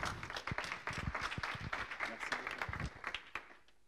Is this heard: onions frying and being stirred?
no